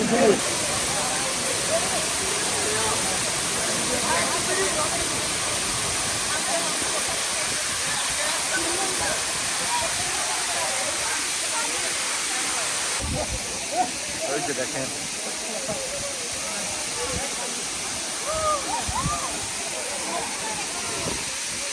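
Khoiyachora waterfall in Mirsharai roars in a constant, dense rush of broadband noise throughout, loud and unbroken, with faint voices buried underneath.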